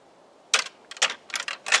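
Rattling antlers from 4n2 gripped tight for a quieter, toned-down deer call: a series of short clicking, clattering bursts in irregular rhythm, close but muted, with no talking.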